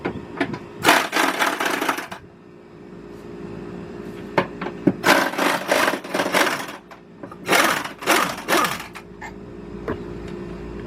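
A power tool takes off the two top bolts, with three long, loud, whirring bursts up close, separated by short pauses and scattered clanks.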